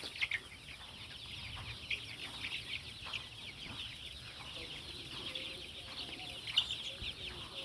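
Chickens cluck softly and intermittently in the distance, a faint scattered flock sound over low background noise.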